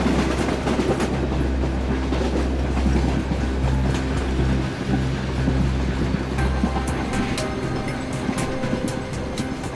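A running train rumbles steadily and loudly throughout, with rhythmic clickety-clack of the wheels on the rails and a brief dip in the rumble midway, no voices.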